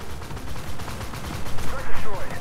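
Bursts of autocannon fire from the QN506 vehicle in a video game come through as a rapid, rumbling run of shots with heavier thumps near the end, layered over a dense background of battle noise.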